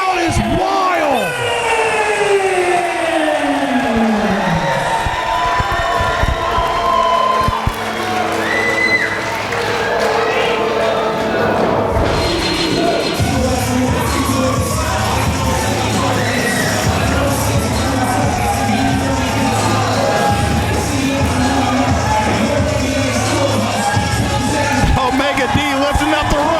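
A wrestling crowd roars and cheers after a rookie's upset win, a loud, sustained wall of voices with yells and clapping running throughout, and announcers talking over it.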